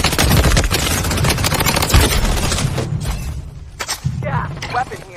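Rapid bursts of gunfire in the shooter game Blood Strike, dense and loud for several seconds before thinning into scattered shots, with voices talking over it.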